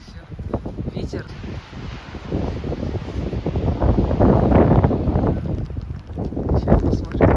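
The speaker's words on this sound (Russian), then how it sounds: "Ветер." Steady wind buffeting the microphone on a rainy day by a bridge in Vladivostok, a low rumbling roar that swells and gusts throughout, with faint voices in the background.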